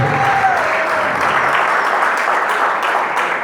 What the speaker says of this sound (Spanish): Dale un aplauso si lo estás creyendo.